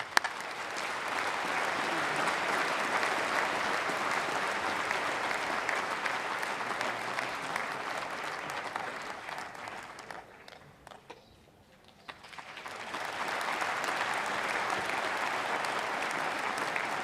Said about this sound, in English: Let's give Mr. Stefan Bird a nice round of applause.